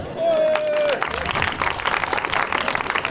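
A group audience breaks into applause after a brief spoken lead-in, the clapping rising into a dense, continuous patter that carries on to the end.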